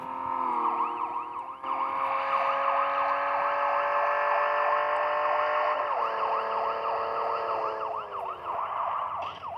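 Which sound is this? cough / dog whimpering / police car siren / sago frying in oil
police car siren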